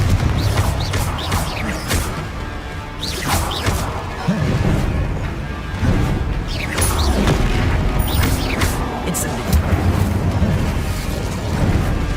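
Blasting-spell explosions in the game Hogwarts Legacy go off in heavy booming bursts with crashing debris, several loud blasts spread over about twelve seconds amid rumbling game effects.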